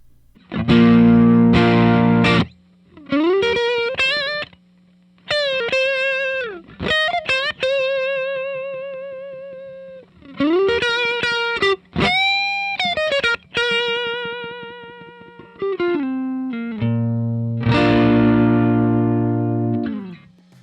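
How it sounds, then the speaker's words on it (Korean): An electric guitar plays through an MXR Duke of Tone overdrive pedal, giving loud, lightly driven chords and single-note phrases with pauses between them, close and clear with no talking. "마지막은 듀크 오브 톤."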